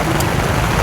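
Steady rain falling during a storm, a dense, loud, unbroken hiss throughout the short moment.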